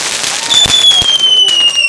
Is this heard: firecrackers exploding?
yes